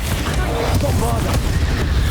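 A Bombarda explosion spell in Hogwarts Legacy on Switch, with deep booming blasts and rumbling bursts layered over dense battle effects and a voice speaking.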